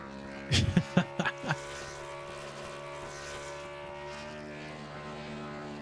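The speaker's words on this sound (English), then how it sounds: "Massive burnout." A race car at Richmond Raceway holds a sustained engine roar through a massive burnout, with a cluster of sharp pops and bangs near the start, then a steady loud drone to the end.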